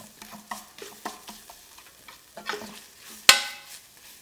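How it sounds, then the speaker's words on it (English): Tomato paste stirred across the bottom of a pan for a sausage ragù, with soft scraping strokes, light frying crackle and one sharp clack near the end, no talking. "we're going to stir this around the bottom of the pan and let it cook just"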